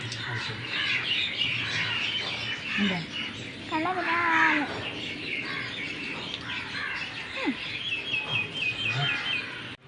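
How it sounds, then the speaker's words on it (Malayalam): Several birds chirp and tweet continuously, with rising whistled calls standing out over a constant busy outdoor background. "സൂര്യൻ ചേട്ടൻ പോകുമ്പോൾ കിളി വരും"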